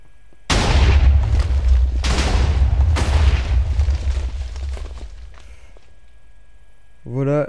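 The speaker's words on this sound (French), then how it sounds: "Voilà les dégâts importants de mon canon à TNT." Automatic Minecraft TNT cannon firing twelve TNT per shot: a series of loud, booming blasts in quick succession, close and heavy, fading into rumbling debris, with a voice starting to speak at the end.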